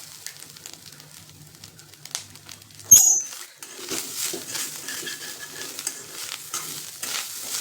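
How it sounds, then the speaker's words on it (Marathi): Coconut and jaggery rice sautéed and stirred in a pan, with a sharp clatter near the start and then a steady soft sizzle and scraping that continue to the end, close and fairly quiet. "परतून घ्यायचे, जास्त नाही."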